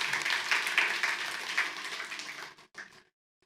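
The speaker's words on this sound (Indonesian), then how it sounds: "Tepuk tangan yang semangat." Audience applause fills a church seminar hall, a dense burst of clapping that holds steady for a few seconds, then thins and trails off into a couple of last claps before silence.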